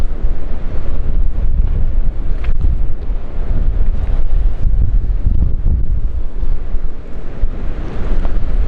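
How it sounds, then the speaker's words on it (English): Heavy gusts buffet the microphone in wet, stormy weather at Heartland Quay, with surf and waves breaking beneath a loud, continuous roar of wind and no voices. "It is wet and windy."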